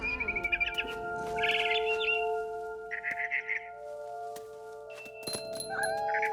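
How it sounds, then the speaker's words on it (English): A barn swallow chirps in short, bright bursts in the video game What Remains of Edith Finch, the calls coming in clusters over a steady tonal game background. "Then I heard chirping outside my window. It was a barn swallow going back to her nest."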